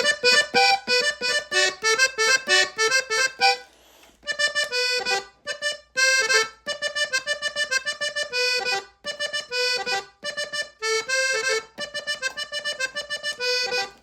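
A button accordion tuned in G plays the intro of a tune, a bright rhythmic run of chords and melody notes with short pauses between phrases, close and loud with no talking.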